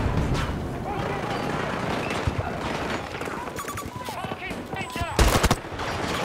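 Gunfire in the video game Battlefield 2042 crackles as steady bursts under dense battle noise, with a few sharper shots standing out near the end and a person talking over it.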